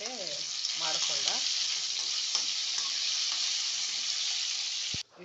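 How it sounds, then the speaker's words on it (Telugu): Ingredients for masala dosa roasting in a hot pan, giving a continuous bright sizzle with scraping strokes of stirring near the start; close and steady, ending abruptly with a knock. "మధ్యలో ఇట్లా కలుపుతూ ఉండాలండి"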